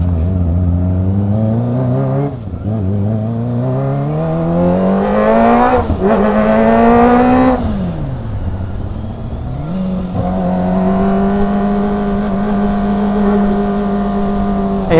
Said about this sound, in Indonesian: Kita keliling kota Sorong pakai